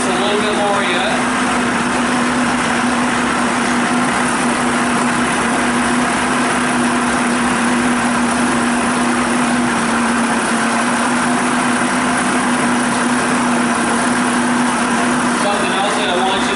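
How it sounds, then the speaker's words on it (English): Outboard motor warming up at idle after carburetor work, a steady buzzing drone holding an even pitch throughout, close and fairly loud with no clear speech over it. "Let the engine warm just a little bit more yet."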